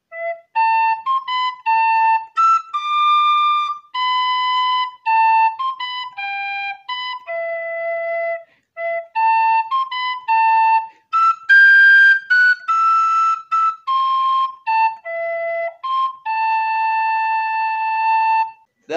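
A tin whistle plays a Harry Potter melody in clear, bright, separate notes with short breath pauses between phrases, solo and close.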